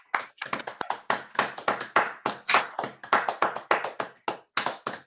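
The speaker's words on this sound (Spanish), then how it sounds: "Fuerte aplauso, por favor," A small group clapping at a talk, sharp distinct claps in an uneven rapid rhythm, close and fairly loud, continuing steadily for about five seconds.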